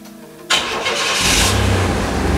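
A Chevrolet S10 Blazer's engine cranks briefly and then catches after fresh spark plug wires are fitted, jumping to a loud, close, steady running roar that settles into an even idle.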